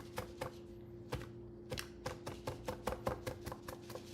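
Food chopped by hand with a knife on a board, a quick irregular series of crisp close taps over a low steady hum, fairly quiet.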